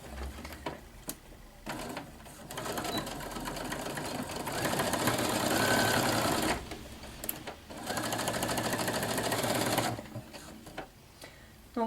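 A domestic sewing machine stitches a skirt lining in bursts, a fast rhythmic whirring run that pauses, restarts and stops near the end, close and clear with no speech.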